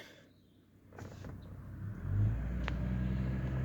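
A 2004 Chevrolet Trailblazer LS pulls away in second gear, its engine rising from a quiet idle into a steady, strained, droning rumble heard from inside the cabin.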